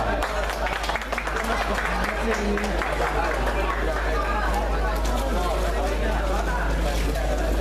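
Steady applause and crowd hubbub fill a school arts show hall for the favorite-winner announcement, a constant dense wash of clapping over a low hum, with voices mixed in.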